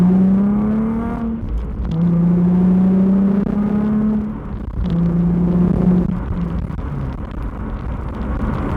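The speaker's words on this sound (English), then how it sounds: "The sound is really nice as I'm driving, and it's got a nice natural burble to it." A car with a VQ V6 engine and a Flashark Racing Y-pipe burbles deeply while driving, with a steady low exhaust drone that rises and falls through gear changes, loud and close with no talking.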